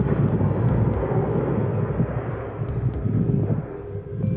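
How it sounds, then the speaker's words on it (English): DHL courier airplane flying by overhead, a broad steady roar with wind buffeting on the microphone, loud and continuous with no voices. "That's the aircraft that's passing by."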